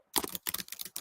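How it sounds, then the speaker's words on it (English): Someone types on a computer keyboard in a quick, uneven burst of clicky keystrokes close to the mic. A short pause follows the first few taps, then the rapid clatter resumes, with no voices. "Thanks for enjoying the ASMR of typing this morning."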